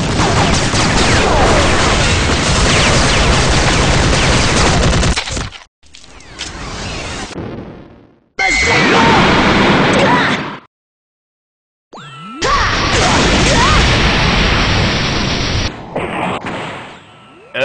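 Gunfire in a Half-Life mod, loud bursts of shots and cracks in fast-paced third-person deathmatch combat, broken by a few abrupt silent cuts between segments.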